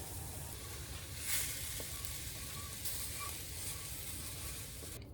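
Eggs fry in a pan with mineral salt and cracked pepper, a soft steady sizzle with faint scrapes of stirring, quiet and close with no voices.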